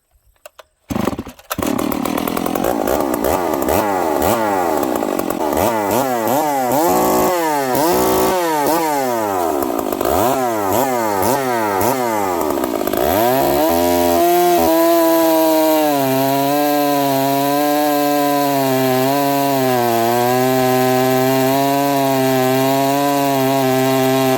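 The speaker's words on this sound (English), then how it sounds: "Okay, let's see what this saw's going to do. Okay, let's do another cold start. Full choke." Ported Stihl 038 Magnum chainsaw cold starting on full choke: a few pull-cord tugs, then the engine catches and revs up and down in repeated surges before settling into a loud, steady high idle, close by.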